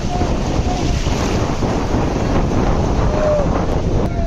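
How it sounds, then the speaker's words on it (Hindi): Sea waves roll in at the shore at Gangasagar in a continuous wash of surf, mixed with heavy wind buffeting close to the microphone. "देखो लहरें, देखो लहरें कैसे आ रही है।"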